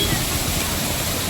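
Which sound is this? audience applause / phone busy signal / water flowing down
water flowing down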